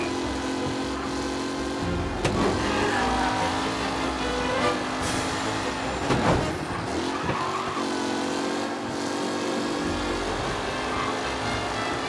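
Race cars roaring past and skidding during a race in Mafia Definitive Edition, engines droning loudly with several sharp tire screeches and whooshing pass-bys, no talk.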